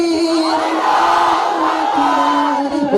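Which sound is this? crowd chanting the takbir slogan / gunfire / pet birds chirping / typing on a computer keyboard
crowd chanting the takbir slogan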